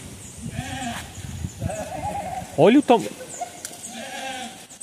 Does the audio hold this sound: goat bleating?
yes